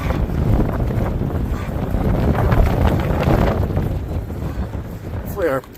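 Strong wind gusting across a mountain trail on the Pacific Crest Trail, a loud continuous roar buffeting the microphone with rumbling, close and sustained throughout.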